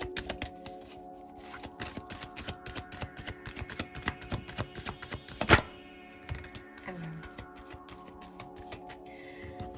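Tarot cards are shuffled close by in quick, papery riffles and taps, with one sharper snap partway through.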